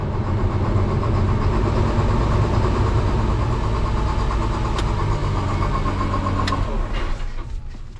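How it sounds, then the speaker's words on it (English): An excavator's engine running and idling in the cold, a steady low rumble that holds throughout with a couple of brief clanks. "That engine didn't sound great"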